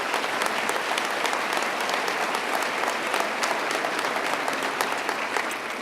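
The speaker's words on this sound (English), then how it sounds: "Let's give him a round of applause." An audience at a state government budget presentation applauds in dense, sustained clapping that stays steady and fairly loud throughout, with no speech over it.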